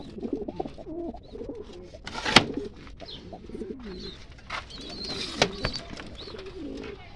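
Domestic pigeons kept by a breeder coo repeatedly in a loft, with low soft calls rolling through the whole stretch, close to the listener, plus one sharp brief rustle or bang midway.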